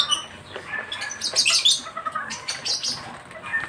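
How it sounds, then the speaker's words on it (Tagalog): African lovebirds, some black-masked, chirp and squawk in high, busy bursts while eating bird seeds, close and lively. "Ang tawag sa kanila African lovebirds."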